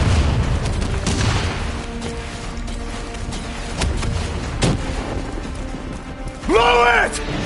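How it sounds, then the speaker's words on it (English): Javelin missile strikes land in a Call of Duty Black Ops 3 battle, with booming impacts and rumbling blasts over steady combat noise, a sharper burst near the end, and voices shouting through the chaos. "Brace for impact. Javelin missiles inbound."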